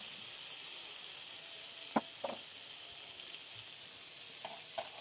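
Tomatoes and green chillies frying in a pan for a karela chicken dish, a quiet steady sizzle broken by a few brief stirring clinks and scrapes.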